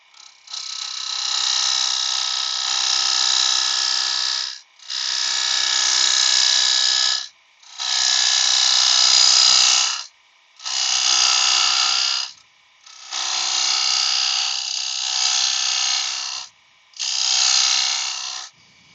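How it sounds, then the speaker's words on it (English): A hand scraper shapes a small curve into a wooden jewellery box, heard as six raspy strokes of about two to three seconds each, separated by short pauses, close and fairly loud with no talking. "I'm going to use the scraper here"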